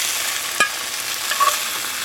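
Meat searing in hot oil in a pot for Irish stew, a steady soft sizzle with a brief scrape of stirring and a faint clink partway through.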